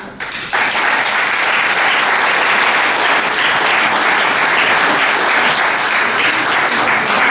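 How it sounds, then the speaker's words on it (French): Audience applause welcoming a performer at a town's annual afternoon gathering, a sudden burst of loud, sustained crowd clapping that holds steady throughout. "je vous invite à l'accueillir avec des applaudissements."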